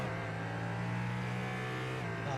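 A Ford Mustang GT race car in the iRacing video game blares past with a sustained, buzzing engine note that holds steady, then shifts briefly near the end, at moderate loudness.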